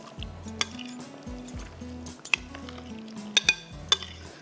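A spoon stirs a marinade of salt and turmeric in a metal pot, giving soft repeated scrapes and squishes broken by a few sharp metallic clinks, quiet and close.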